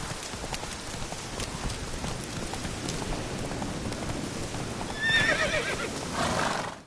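Roach, a horse in the video game Witcher 3, gives a short shrill neigh near the end over steady hooves and a rain-like hiss that fills the whole stretch.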